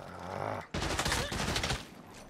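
Gunfire in the video game Saints Row, a dense burst of rapid shots that breaks briefly and then resumes as loud sustained firing, close and alone.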